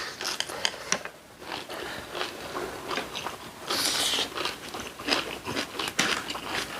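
Spicy stir-fried squid and kimchi being eaten up close, with repeated crisp bites and crunchy chewing in an uneven rhythm, steady and fairly loud throughout with no talking.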